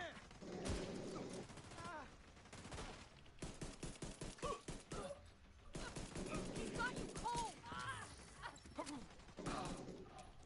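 M1911 pistol fire in The Division 2 on PS4, rapid sharp shots mixed with heavier gunfire and clanking mechanical noises, dense and close, with voices talking throughout.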